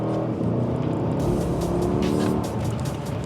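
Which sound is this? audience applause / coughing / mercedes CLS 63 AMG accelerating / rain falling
mercedes CLS 63 AMG accelerating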